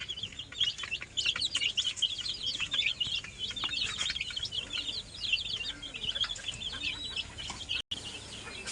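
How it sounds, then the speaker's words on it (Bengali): A brood of twenty-one broiler chicks chirps continuously and densely, with many overlapping high peeps close by and no talking. "সবগুলাই ব্রয়লার মুরগির বাচ্চা, 21 পিস।"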